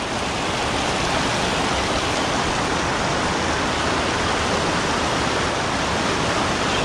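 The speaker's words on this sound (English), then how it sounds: "Oh no, coasted into the rapids." Rushing water from river rapids below a spillway, a loud, unbroken broadband roar filling the whole stretch with no voices.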